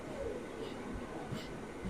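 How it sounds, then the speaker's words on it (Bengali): A Mecheda–Digha local train pulls out of Mecheda station, a steady low rumble and rattle of the carriages heard from inside, with murmuring voices in the background. "মেচেদা থেকে ছেড়ে দিল ট্রেন।"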